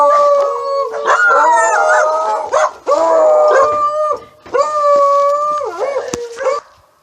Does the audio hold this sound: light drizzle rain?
no